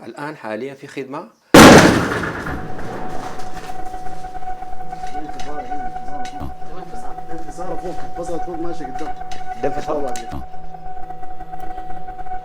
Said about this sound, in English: The sound of cannons continue here in Omdurman.